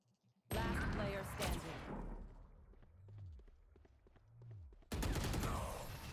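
Gunfire erupts in the online shooter Valorant, loud bursts of rapid shots at the start and again near the end, separated by quieter in-game sounds with footsteps and low sweeping effects.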